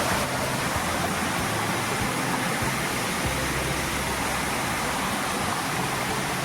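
Steady roar of a waterfall deep in a jungle, a broad unbroken wash of crashing water close by and loud, with no one speaking.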